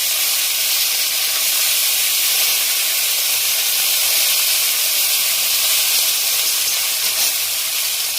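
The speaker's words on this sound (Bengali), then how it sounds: "এক পিঠ ভাজা হয়ে গেছে। মাছগুলো সব ভাজা হয়ে গেছে।" Parshe fish fry in hot oil with turmeric in a kadai, making a loud, close, continuous hissing sizzle that holds steady throughout.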